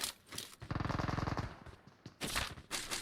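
Rapid automatic fire from a DP light machine gun in a first-person shooter game, a tight burst of evenly spaced loud shots followed by scattered single gunshots and other battlefield bangs.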